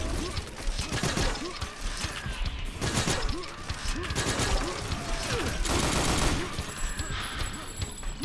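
Rapid gunfire bursts and heavy impacts crash through a fight on the docks in Painkiller: Reload, with repeated loud shots, smashing hits and mechanical clatter, while a voice talks over the action.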